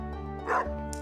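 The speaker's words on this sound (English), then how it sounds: "You see this dog here?" A single short dog bark in Stardew Valley, heard over a steady background music drone and quickly gone.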